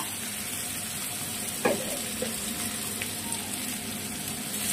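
Potatoes fry in a pan with a steady, moderate sizzle, interrupted by a couple of brief scraping stirs. No one talks.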